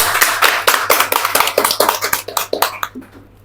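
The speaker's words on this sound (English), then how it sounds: "So big clap for our anchors." A small seminar audience claps in distinct, separate hand claps with an uneven rhythm. The clapping is fairly close and thins out before stopping after about three seconds.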